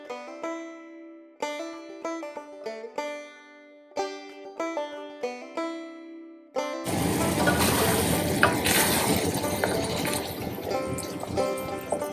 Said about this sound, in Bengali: এখানে একদম আলুর দম আর চিকেনের মশলা কষিয়ে নিচ্ছি একসাথে